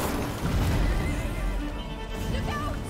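A horse whinnies loudly in A Plague Tale: Innocence over a dense, rumbling game soundtrack, with faint hoof clatter underneath.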